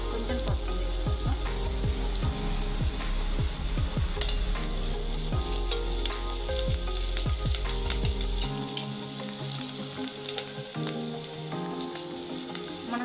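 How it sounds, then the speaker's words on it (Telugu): Onions frying in a pan until transparent, a close, continuous oily sizzle with the scrape and clack of stirring; the low frying hiss thins out partway through as stirring continues. "కొంచెం ఉల్లిపాయలు కొంచెం ట్రాన్స్పరెంట్ అయ్యే వరకు ఫ్రై చేసుకుందాం"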